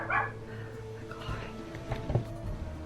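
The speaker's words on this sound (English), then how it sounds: "my dog would not stop barking at the mailman" A dog barks repeatedly at the mail carrier, sharp yaps and whimpers mixed with background voices and household noise, moderately close but not very loud.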